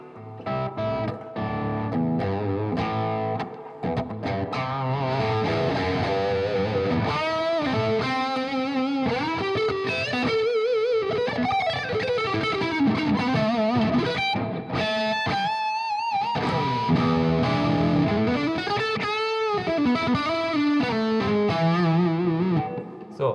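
Electric guitar played through an AMP1 Iridium amplifier with reverb, a sustained distorted tone with chords and melodic bends ringing out continuously for over twenty seconds, loud and close with no voices.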